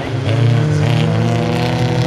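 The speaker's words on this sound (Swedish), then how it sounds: "han varvar på ordentligt upp i backen här" A folkrace car's engine revs hard climbing a hill, a loud close roar with sustained strained pitch and strong harmonics throughout, no speech over it.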